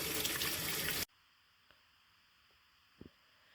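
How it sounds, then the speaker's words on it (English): Cold tap water runs loudly over tofu being rinsed in a sink for about a second, then cuts off, leaving near silence with a couple of faint clicks. "I'm just gonna give it a quick rinse under some cold running water."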